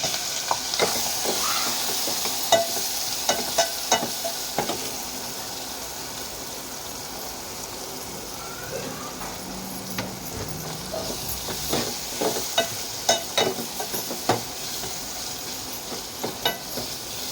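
Green chillies, curry leaves, dry red chillies and onion fry in hot oil with a steady low sizzle, broken by intermittent clacks and scrapes of a spoon stirring the pan close by.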